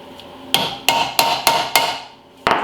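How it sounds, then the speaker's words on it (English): Hammer blows drive a part into place during brake work on a Chevy Tahoe: five or six sharp metallic strikes, close and loud, evenly spaced with short pauses and one last hit after a brief gap, with no talking. "Nope, gotta hammer it in."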